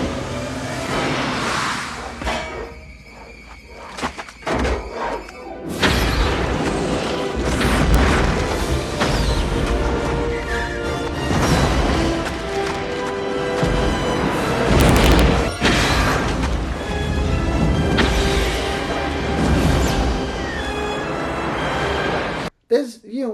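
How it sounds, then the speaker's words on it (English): Several heavy video game grenade booms and crashes go off in succession, loud and dense, with a rumbling, chaotic mix of blasts layered over one another. "two explosions go off, and then we get an additional 3, 4, 5, and 6 explosions"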